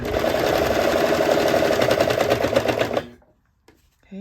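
Sewing machine stitching through thick fabric, a loud, rapid mechanical rattle running steadily for about three seconds before stopping abruptly, followed by faint handling noises.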